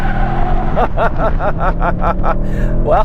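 A 2022 Toyota Tundra pickup with a V6 engine accelerates in two-wheel drive. A steady, throaty engine drone rises with the gears, heard from inside the cab while a person talks briefly over it.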